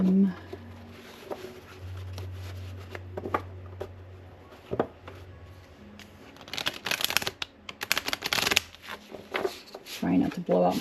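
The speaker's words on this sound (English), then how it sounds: "I'm shuffling my cards" Tarot cards being shuffled by hand during a self-love ritual with a lit candle nearby: bursts of riffling and shuffling clatter, steady low hum underneath, growing busier toward the end, no speech.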